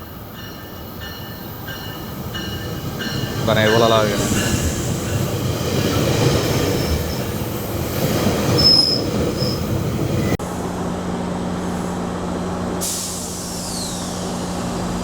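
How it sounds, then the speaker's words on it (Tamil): A metro train rumbles into a station in Scarborough with loud metallic wheel squeals and a hiss of air brakes, steady heavy noise throughout, with a brief spoken remark near the start. "நம்ம ட்ரெயின் வந்துச்சு"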